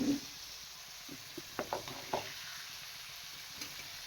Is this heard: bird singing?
no